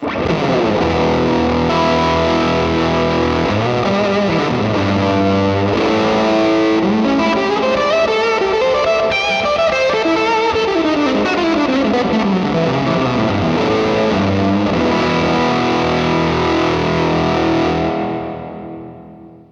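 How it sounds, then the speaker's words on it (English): Guitar through Universal Audio pedals with fuzz and plate reverb, a dense, loud distorted stream of notes and chords held steadily for most of the passage before fading away at the end, with no talking. "Nothing I like better than plate reverb and fuzz,"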